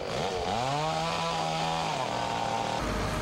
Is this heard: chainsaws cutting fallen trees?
yes